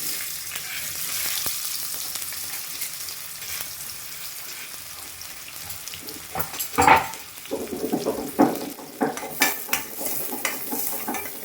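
Green chillies fry in a cumin tempering with a soft continuous sizzle, then sharper stirring scrapes and clinks of a utensil against the pan grow louder in the later half, with no talking.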